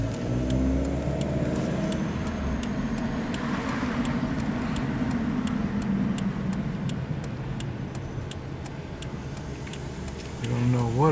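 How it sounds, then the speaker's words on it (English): A Central American chicken bus rolls by on the far side of the road with a steady mid-pitched engine rumble under continuous traffic noise, and a regular ticking runs throughout. "See the chicken bus going down the other side."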